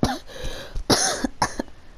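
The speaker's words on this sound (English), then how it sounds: "the cough" A person coughs several times in short bursts, each one sharp and close, with gaps of quiet between them and a throat-clearing quality to some of the hacks.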